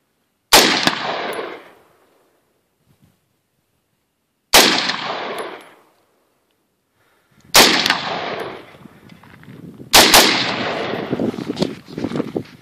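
A rifle fires tracer rounds during a night shoot: four loud, sharp gunshots spaced a few seconds apart, each followed by a brief decaying echo, with the last two coming closer together amid faint outdoor noise.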